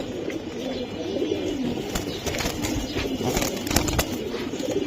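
Giribaz pigeons at a wholesale pigeon market cooing nearby, a low, steady murmur of overlapping coos with occasional wing flutters and faint background noise.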